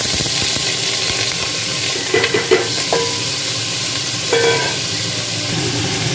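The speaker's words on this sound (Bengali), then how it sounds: "এবারে এই জিনিসটা টোটালটা দিয়ে ভালো করে ভেজে, তারপর টমেটো আর এইটা দিয়ে ভালো করে কষিয়ে নেব" Whole spices and paste frying in oil in a pressure cooker for a tengri curry, a loud, dense sizzle throughout with a few brief metallic clinks and scrapes from stirring.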